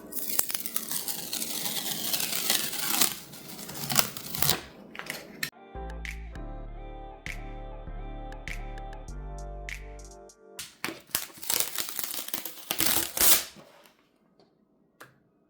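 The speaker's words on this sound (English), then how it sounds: "So I'm gonna peel all of them off" Dollar Tree vinyl decals peeled off an IKEA desk pad, giving close crackly tearing and crinkling bursts at the start and end, with a stretch of music in the middle.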